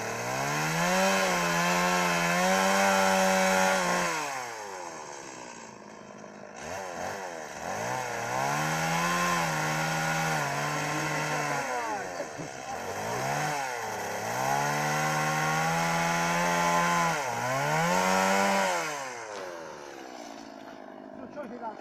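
Chainsaw cutting through wood outdoors, loud engine revving up and bogging down in repeated cutting passes, each lasting a few seconds, with brief dips in between.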